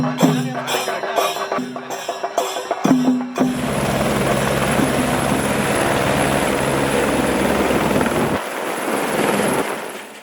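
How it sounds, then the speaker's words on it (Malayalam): Helicopter flying over Munnar: after a few seconds of sharp, choppy bursts, a loud, steady rotor roar settles in close by, dipping briefly before continuing. "മൂന്നാറിന്റെ ആകാശപ്പരപ്പിലൂടെ ഹെലികോപ്റ്റർ യാത്ര ഒരുക്കിയത്"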